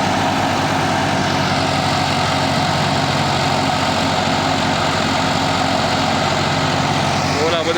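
A green 4x4 tractor loaded with potatoes and stuck, its engine roaring steadily and straining at full power, close and loud throughout with a continuous low rumble and a slight change near the end.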